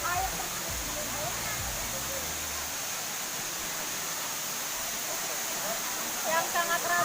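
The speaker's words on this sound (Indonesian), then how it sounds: "sebentar lagi kita bisa melihat dengan jelas air terjun Gelundung" Steady broadband roar of the Gelundung waterfall in Indonesia fills the scene, with people talking faintly underneath throughout.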